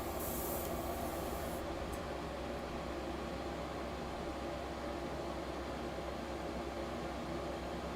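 Aerosol spray paint hissing onto plastic model kit parts for a Master Grade 1/100 Sinanju robot, a steady continuous close hiss lasting throughout with a brief brighter burst at the start, no talking.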